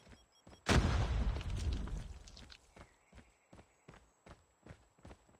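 A Semtex grenade explodes in a shooter video game with one sudden heavy boom that rolls off over a second or so, followed by quick, light footsteps running in a steady patter.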